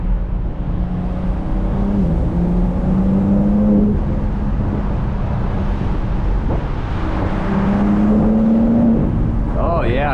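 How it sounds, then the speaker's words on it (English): A 2025 BMW M4 Competition xDrive accelerates hard from inside the cabin, a steady loud engine and exhaust drone rising in pitch through the gears, with turbo whoosh and a voice talking over it. "Oh yeah, you definitely hear the exhaust in there."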